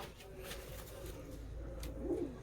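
Soft pigeon cooing, a low throaty coo near the end, over faint background noise and a few rustling clicks.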